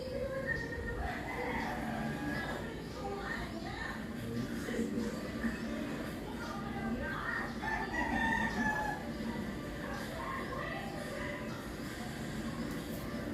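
A rooster crows more than once, loud and fairly close, over a busy background of continuous chatter and crowd noise.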